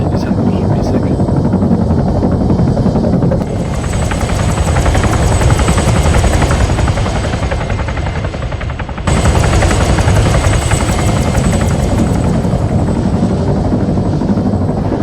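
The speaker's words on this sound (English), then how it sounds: "this helicopter comes from RHS. It's the Marine Corps helicopter." Marine Corps helicopter from the RHS mod in the video game Arma 3, a loud, close, continuous rotor thump and engine whine throughout, with one brief cut in the middle.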